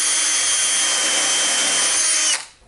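A power drill drives small screws into a wooden template for cutting pergola joist ends, one loud steady whine close by that winds down at the end.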